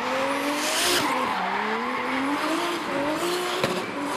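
A drift car on a qualifying lap at Baypark Stadium slides with sustained, loud tyre squeal and a steady engine drone under it, the pitch bending and wavering as the car holds its slide.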